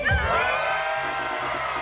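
A crowd at a breakdance battle cheers and shouts loudly and continuously, a dense roar of voices with whoops near the start that stays steady throughout.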